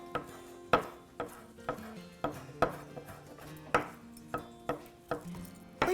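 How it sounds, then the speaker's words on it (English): A knife chops fresh mint on a cutting board in a home kitchen, a steady series of crisp, close knocks at an even rhythm, about a dozen strokes, with no talking. "And a good chop with this too."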